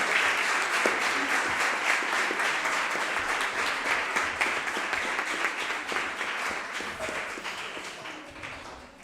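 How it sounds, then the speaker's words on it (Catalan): A sustained round of applause fills a council chamber for the children's council members at their swearing-in session, steady, dense clapping that gradually fades toward the end. "Doncs un aplaudiment per tots els regidors i regidores."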